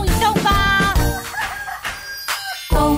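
Rooster crowing in a children's song, with a loud, drawn-out cock-a-doodle-doo call set against bright music and some sung voice that may imitate the crow.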